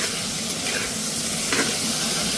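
Pieces of paneer sizzle in hot oil, a steady close hiss with a few brief stirring scrapes and no talking.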